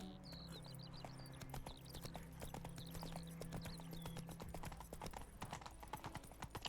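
Horse hooves clip-clop in a steady walking rhythm over a low droning background in The Witcher 3, with a few faint high chirps scattered early on.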